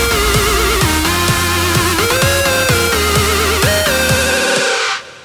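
Several layered synthesizers playing together through an EQ in a studio, a dense sustained chord with a rhythmic low pulse and gliding upper lines, loud and steady before cutting off at the end.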